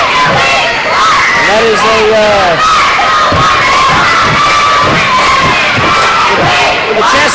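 A loud home crowd in a gym at a high school basketball game cheers and shouts continuously, with high-pitched yelling and a voice talking over the din.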